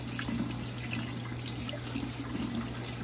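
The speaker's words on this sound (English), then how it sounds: "I'm gonna wash this chicken, I gotta put it in here." Cold tap water runs steadily into a kitchen sink while raw chicken is being washed, a continuous close splashing flow with no talk over it.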